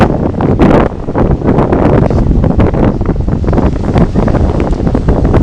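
Strong wind buffeting the microphone over the roar of rough, stormy Black Sea waves at Ochakiv, loud and continuous with no voices.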